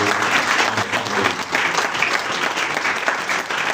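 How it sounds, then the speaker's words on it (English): Audience at a book launch gives a hearty round of applause, loud and close, a thick continuous wash of clapping filling the few seconds without a break. "please join me in giving a heartful round of applause to"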